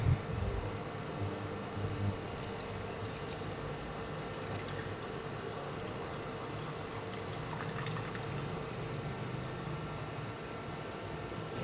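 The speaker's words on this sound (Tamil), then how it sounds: "அதில் தேவையான அளவு தண்ணி ஊற்றிக்கலாம்" Water pours steadily into a pot on a low flame, a soft continuous rushing splash at low volume.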